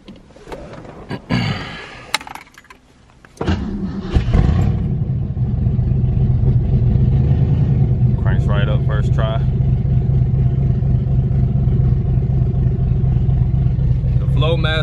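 A car with a 5-speed manual is cranked and starts, settling into a loud, rough idle from an exhaust not fully connected to the muffler on the passenger side, with someone talking over the rumble.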